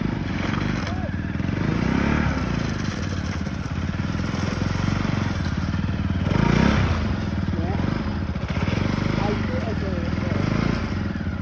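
A motorcycle labours along a rough mountain road in Manang, its engine droning steadily and revving unevenly throughout, with clattering and scraping over the rough surface and people talking in the background.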